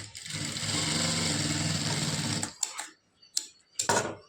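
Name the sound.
sewing machine stitching a blouse lining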